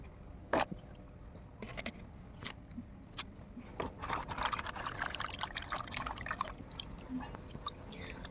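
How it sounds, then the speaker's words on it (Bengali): Cut potatoes are washed in water, with splashes, pours and trickles alongside clinks and rustles of handling in a bowl, close up and fairly quiet. "আলুগুলোকে ধুয়ে তুলে নেব"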